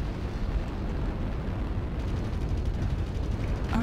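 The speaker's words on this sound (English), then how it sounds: "Artillery strike activated." A MechWarrior artillery strike sends up a steady, dense, low rumble of overlapping blasts, a continuous heavy roar with no clear gaps, fairly loud throughout.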